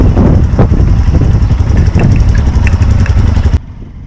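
Motorcycle engine on an open road during a touring ride, a loud continuous rumble with wind noise close to the bike, cutting off abruptly near the end, no talk.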